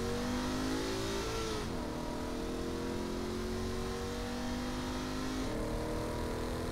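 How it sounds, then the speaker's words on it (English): A car's engine holds a steady, loud drone as it speeds along in Saints Row: The Third, its pitch sliding down after a gear change and then rising gradually again, with no talk over it. "See, this is fast driving"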